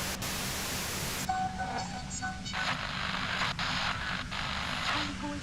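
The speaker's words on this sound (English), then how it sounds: "Her voice trails off in a white noise in your head." A wash of white noise in the Disco Elysium video game, a dense steady hiss filling the whole stretch with faint tonal flickers and brief dips, loud and continuous.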